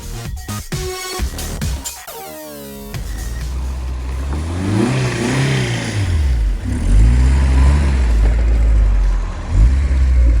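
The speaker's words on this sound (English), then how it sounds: "Put the little diesel to work." Small diesel engine working hard, revving up and down in rising and falling surges, loud and close, after a few sharp mechanical knocks at the start.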